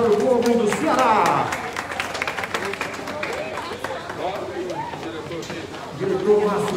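Crowd at an education event in Ceará claps and cheers, scattered applause mixed with voices and a speaker talking over it through most of the stretch.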